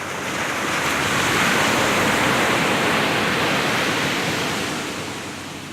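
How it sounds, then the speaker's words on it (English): Continuous ocean waves and surf wash steadily and loudly, a broad hiss swelling slightly and easing toward the end, with no voices over it. "the sounds of the ocean mirror your movement"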